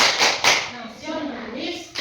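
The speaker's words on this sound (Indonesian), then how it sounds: "mari kita berdiri dan kita lakukan tepuk PPK" Fourth-grade pupils standing in a classroom clap out the rhythmic PPK routine, a few sharp, close claps in quick bursts separated by brief pauses, with children's voices chanting between them.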